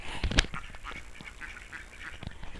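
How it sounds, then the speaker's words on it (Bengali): Ducks quack at a village duck farm housed on a building's ground floor, with short bursts of nasal calls near the start and scattered quieter calls under general barnyard noise. "দেখতে পাচ্ছেন এই যে এখানে কিন্তু হাঁস থাকে"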